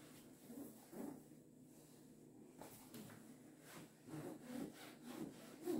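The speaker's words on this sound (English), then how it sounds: "I really don't like the sound some kind of pantyhose make against the floor." Black pantyhose rub against a floor, making faint, close, scratchy friction sounds that come in soft, uneven strokes.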